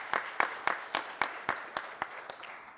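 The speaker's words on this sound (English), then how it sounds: "So if we could give a nice round of applause" Faint, measured clapping at a university State of the University address before the Faculty Senate, about ten evenly spaced claps sounding distant and sparse, like a thin round of applause in a large hall.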